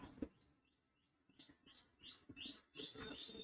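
Birds chirping, a run of repeated rising tweets that grow louder and closer, steady in rhythm over a faint background with a soft knock near the start and no talk.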